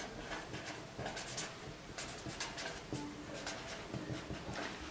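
A pen or marker scratches and taps across a board while the area formula for a kite is written out, producing soft, faint strokes in short irregular bursts with no talking.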